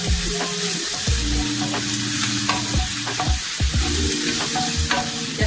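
Sliced bell peppers frying in a pan with onions, a steady sizzle broken by repeated scraping and clunking of a utensil stirring the pan close by.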